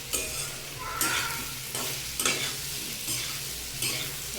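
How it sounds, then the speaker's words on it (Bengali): Spoon stirring papaya, potato and taro stolon vegetables in a hot pan, with repeated scraping strokes about once a second over a constant sizzle of frying, close and fairly loud. "নেড়ে চেড়ে নেবো মিশিয়ে"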